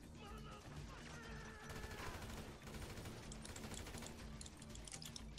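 Rapid gunfire rattles during a GTA Online match, bursts of automatic shots and scattered reports coming in dense volleys, fairly quiet overall, with game sounds mixed in throughout.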